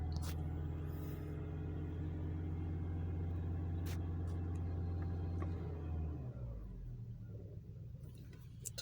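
A 2015 Toyota Camry hybrid engine with a misfire, a loud, close, uneven rumbling drone that holds for about six seconds and then cuts out, leaving quieter background noise.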